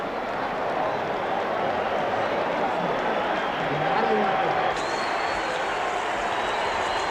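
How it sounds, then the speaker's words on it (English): A large boxing arena crowd before Muhammad Ali vs Joe Frazier, a dense steady roar of many voices filling the hall, continuous and loud throughout with no single voice standing out. "Just listen to the noise of this crowd"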